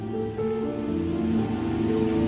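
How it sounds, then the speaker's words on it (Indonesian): December rain keeps falling as it eases into drizzle, a steady, even hiss and patter that holds at a constant level throughout. "Hujan bulan Desember masih turun walau sudah berganti gerimis."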